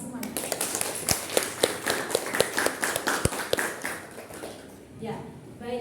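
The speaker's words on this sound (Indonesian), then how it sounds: "beri aplaus untuk kita semuanya" A class of students claps together in a classroom, a run of sharp, fairly even hand claps that grows busier before fading out, heard close with some voices underneath.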